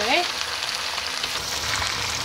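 Sambal belacan of shrimp paste and red chili fries in a pan, a steady dense sizzle running close and loud throughout, with a brief clink of stirring at the start.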